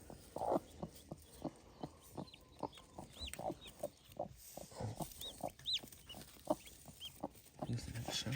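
Newly hatched chicks peeping in a brooder after hatching, a series of short high chirps and soft peeps repeating steadily, near and fairly quiet, with faint clucking-like sounds mixed in.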